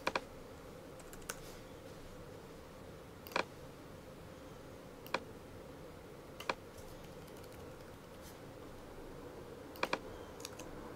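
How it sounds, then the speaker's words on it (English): Sparse computer keyboard typing during a digital layout session, a few isolated soft clicks and short bursts of keystrokes spaced seconds apart over a quiet room hum. "and then I'll type in girl"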